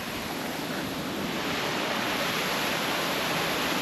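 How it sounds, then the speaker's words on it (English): A small waterfall pours into shallow rock pools along a creek, a constant, loud hiss of falling water heard close by with no voices or breaks. "Epic little waterfall."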